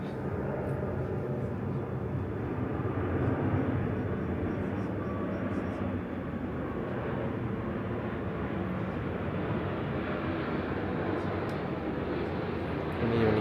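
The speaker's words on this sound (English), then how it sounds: "You can even hear the airplanes now, very close to the airport." Aircraft noise near Heathrow Airport, heard from a Piccadilly Line train around Hounslow East, forms a steady, loud, broadband roar that holds unbroken for the whole stretch with no talk over it.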